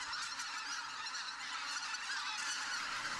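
A huge flock of tens of thousands of wild geese circling over their roosting ground near the North Korean border, honking in a dense, continuous chorus that fills the whole stretch without pause.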